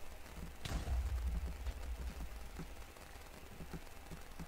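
Minecraft Bedwars TNT blast: a sharp explosive boom early on, followed by scattered crackling, popping bursts of game sound.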